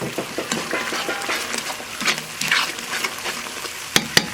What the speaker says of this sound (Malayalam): ഇനി നമ്മുടെ കോളിഫ്ലവർ മിക്സ് ചെയ്യണം